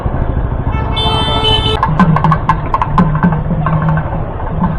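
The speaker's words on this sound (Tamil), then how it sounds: "பயங்கரமான டிராஃபிக்காக இருக்குது." Heavy city traffic in Coimbatore, with repeated car and vehicle horns honking over a steady road rumble of engines and motorcycles, close and loud throughout.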